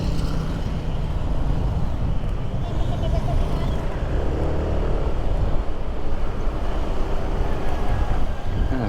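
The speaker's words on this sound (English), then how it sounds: "Yeah, this traffic is a bit stop-start today." Steady low rumble of road traffic heard from inside a car moving in stop-start conditions along a busy road, a continuous engine and tyre drone with no speech.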